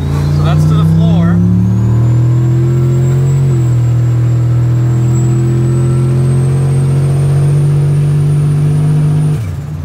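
2500 pickup truck at full throttle, a loud close engine drone whose pitch climbs, steps at a gear change, then holds a steady high whine before cutting off abruptly; a voice is heard briefly at the start.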